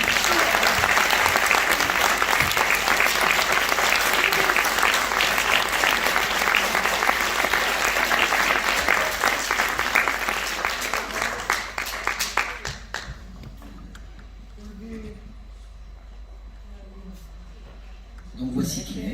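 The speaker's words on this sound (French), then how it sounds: "je crois qu'on peut encore un petit peu les applaudir" An audience at a spring show gives dense, loud applause that holds steady for about twelve seconds, then fades out abruptly into a quiet room with a few faint sounds.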